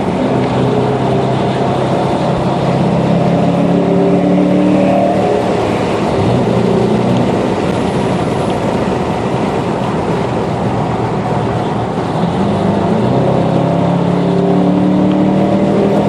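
A Dodge Charger R/T races on a track, its engine giving a loud, steady drone that rises and falls slightly in pitch throughout, heard from close inside or on the car.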